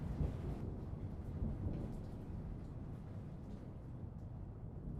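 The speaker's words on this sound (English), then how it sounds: "start off with the rain noise over here" Steady heavy rain pours down in a dense, constant wash, with low rumbling thunder rolling underneath throughout.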